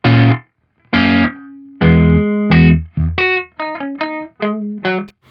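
Electric guitar run through a Sonicake Sonic Ambience delay pedal: distorted sustained notes and chords, then a quicker run of plucked notes with repeating echoes trailing each one, loud and close with no talk.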